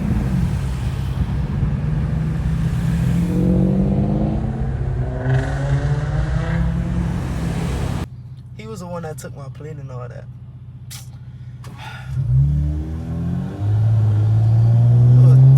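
An Infiniti Q50S sedan accelerates with a steady low engine rumble that swells near the end, heard from inside the cabin while people talk over it.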